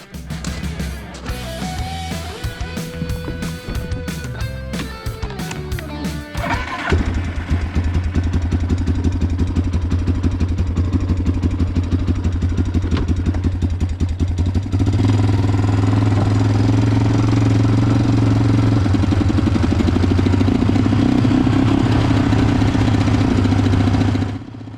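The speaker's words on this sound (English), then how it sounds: "So I did let her sit and idle for a few minutes and warm up." A Yamaha 350 Warrior ATV that sat unused for about a year idling and warming up, a loud close steady single-cylinder thrum that grows fuller and more even as it runs, with no talk over it.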